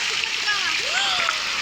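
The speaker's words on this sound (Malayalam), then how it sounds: "ഇതുവഴി കൂടെ വെള്ളം വരുന്നു." Rainwater streams along a path during a rainy walk, a steady close wash of flowing and splashing water while a person talks over it.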